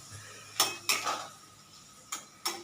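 A utensil strikes a pan four times while Maggi masala noodles are stirred, sharp metallic knocks in two pairs with quiet stretches between them, close and clear and with no talk.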